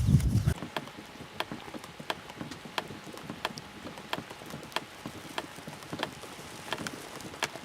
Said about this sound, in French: Brouillard, pluie. Là, la pluie s'est un peu calmée.